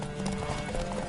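Video game horse hooves clip-clop in a quick, even rhythm, close and moderately loud over a faint tonal game background.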